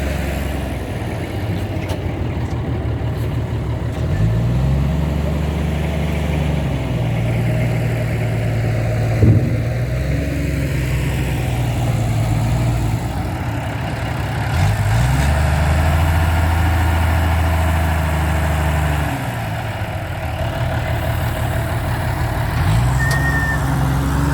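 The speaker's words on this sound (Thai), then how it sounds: "นี่ให้ดูการทำงานนะครับของรถตักเรา" A wheel loader works with its diesel engine running steadily, a loud, continuous low rumble that rises and falls as it revs, with brief metallic clanks and a faint high beep near the end.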